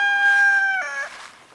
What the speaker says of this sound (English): a little fighting rooster, a Rhode Island game rooster's having a crow fest.